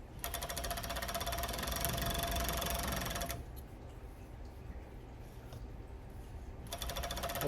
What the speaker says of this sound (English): I just keep the shirt and the band lined up straight, and I just serge around it.